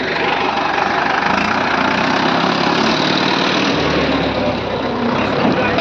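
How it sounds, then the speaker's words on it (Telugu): A tractor engine chugs steadily and loudly throughout, a continuous low rumble with no pauses. "ట్రాక్టర్ మూవ్ చేసినాడు, ట్రాక్టర్ పోతా ఉన్నాడు"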